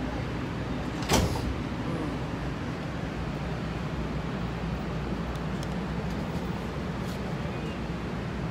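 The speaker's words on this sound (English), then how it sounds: "Please stand clear. The doors are closing." Metro train doors slide shut with one brief thud early on, set against a steady, loud rumble of the moving train.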